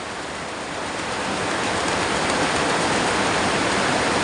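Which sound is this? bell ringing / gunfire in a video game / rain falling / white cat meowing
rain falling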